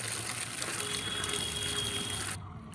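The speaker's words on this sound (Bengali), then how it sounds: "সেই পটলটাকেও আমি ধুয়ে নিলাম" Running water gushing steadily over sliced pointed gourd being washed, a continuous close splash that cuts off abruptly near the end.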